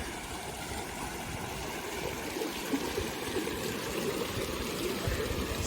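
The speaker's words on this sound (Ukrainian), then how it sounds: "Тут теж такий цікавий фонтанчик." Water trickles and splashes steadily in a small fountain on a university campus in Vienna, a soft, continuous babbling with faint outdoor ambience and no voices.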